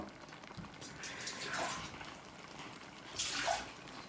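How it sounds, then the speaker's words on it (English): Water poured into a pan of homemade tomato sauce with sausages and peas, making two short splashing pours with a liquid hiss and bubbling over the quiet background of the pan, with no one speaking. "And then I'm going to put 1/4 of a glass of water in here."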